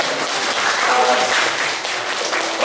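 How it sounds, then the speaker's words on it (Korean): A church congregation applauds a newly commissioned soldier in uniform, a brief, close burst of many hands clapping at a fairly loud, even level. "박수 한번 쳐주세요"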